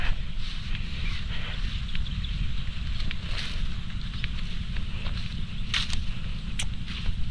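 A motor-driven irrigation pump runs in a rice field, giving a steady, loud low rumble with a constant broadband hiss and occasional faint clicks. It holds throughout, with no pauses or talk over it.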